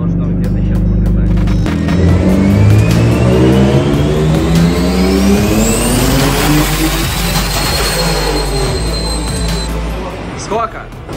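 A Lamborghini Aventador engine built for a Moscow mile event revs on a dynamometer, its rising harmonic sweeps climbing steadily through the pull at a loud, sustained level, with people talking over it.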